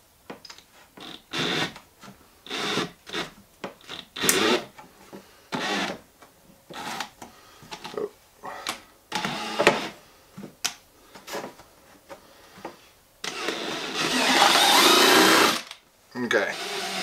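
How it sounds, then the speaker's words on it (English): A power drill bores a hole through a plastic lid for a homemade gravity water filter, short whirring bursts broken by pauses and ending in one longer, louder run, with a person talking between the bursts. "I'll carefully drill a hole"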